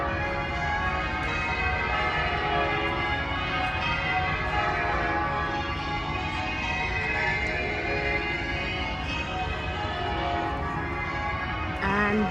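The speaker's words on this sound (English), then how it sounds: "It's coming from the cathedral, the chimes." Cathedral bells chime continuously in Sydney, a dense ringing wash of overlapping tones sustained for several seconds, heard from the street amid faint outdoor ambience.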